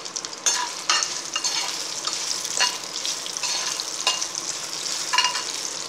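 Chopped ginger sizzling in a pan for chutney, a continuous close frying hiss broken by repeated scraping stir strokes and small crackles, with no talking.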